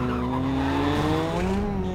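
Tires squeal in a long, loud screech over a steady engine drone as a Ford Mustang Boss turns in the video game Need for Speed World, with a synthetic, game-like sound.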